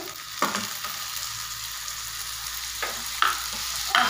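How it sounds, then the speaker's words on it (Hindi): Tomatoes are added to frying masala for egg curry, giving steady close sizzling with stirring and a few sharp scrapes of a spoon against the pan. "अब हम इसमें डालेंगे टमाटर।"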